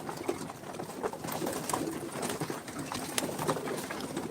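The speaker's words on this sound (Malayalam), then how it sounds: "പ്രാവ് പുറത്ത് പോകാൻ വേണ്ടിയിട്ട് വരുന്നതാണ്" Pigeons coo softly and repeatedly at close range, low rounded calls recurring through the stretch with faint rustling in the background.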